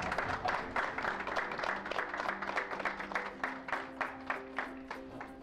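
Moderate applause from an audience at a school computer handover ceremony, brisk clapping that thins out toward the end into a few scattered, separate claps.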